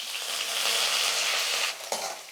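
Ginger garlic paste and curry leaves fry in hot oil with a dense, bright, continuous sizzle that drops off near the end, followed by a couple of brief pan knocks; no speech.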